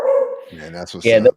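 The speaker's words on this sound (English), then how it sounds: "sorry for the dog" A dog barks and whines briefly in short, high, yelping bursts, mixed with a person talking.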